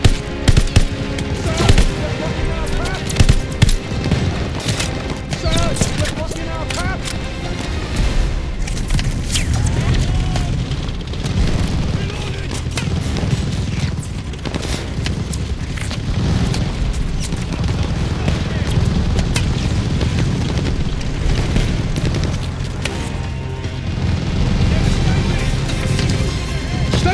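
Machine gun fire in Call of Duty Vanguard, Operation Tonga mission: dense, continuous gunfire and booming explosions forming a loud, chaotic battle din with bursts throughout.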